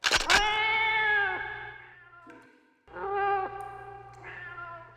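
Cats meow in a church basement in the video game Mortyr, two long, loud, drawn-out yowls separated by a short pause, close and clear over a faint low hum.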